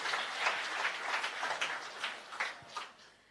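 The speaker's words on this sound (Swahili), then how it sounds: "Pigieni watoto wetu makofi." Crowd applause for children at a Kenyan gathering, a steady patter of clapping from a sizable audience with a few louder claps standing out, heard from a distance.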